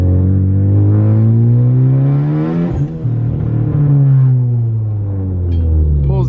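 An ST car that had been stalling, with a suspected fuel problem, pulls hard under acceleration: a loud, close engine climbing in pitch, a quick gear change, then rising again.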